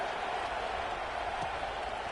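A football stadium crowd makes a dense, steady roar of murmuring voices and faint clapping, heard from a distance with no break.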